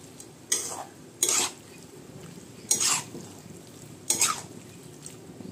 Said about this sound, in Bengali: আলু কুমড়োগুলো দিয়ে একটু পুঁই শাকটাকে নাড়িয়ে দেবো।